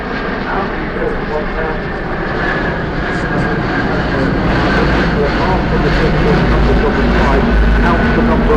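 An Airbus A350-1000 airliner flies a go-around at the Farnborough airshow, its jet engines a loud, sustained roar that swells steadily, with a commentator talking over the top.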